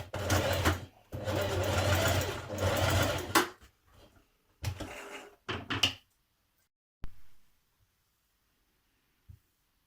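A sewing machine stitches across a dress pocket band in several bursts of rapid, buzzing needle runs, close and loud, separated by short pauses and a few soft clicks and handling knocks toward the end.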